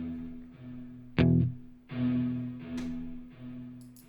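A guitar stab sent through a delay send into a reverb bus rings out loud and sharp once, then a trail of softer repeats follows and fades into a washy reverb tail.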